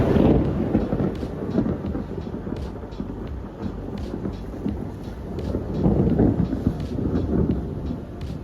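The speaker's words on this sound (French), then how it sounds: "C'est à peu près tout pour cet orage" Heavy thunder from a powerful nearby lightning strike during a storm, a deep continuous rumble swelling and fading over several seconds, loud and close, with rain noise underneath.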